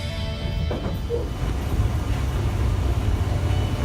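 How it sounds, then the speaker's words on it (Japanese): Train passing through a station, heard from aboard as a steady, heavy low rumble of wheels and motion, close and continuous for the whole stretch. "駅通過の迫力がすごいよっていう感じで撮ってますね"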